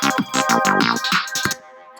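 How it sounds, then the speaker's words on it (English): A funky synth bass line loops in Ableton as short, punchy notes in a quick syncopated rhythm, alone and upfront, then fades into a brief decaying tail. "So I've written a bass line, found a sound for it, and it sounds a bit like this."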